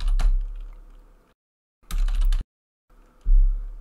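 Typing on a computer keyboard while setting up an Unreal Engine 5 game project, three short bursts of quick close key clicks separated by brief silent gaps.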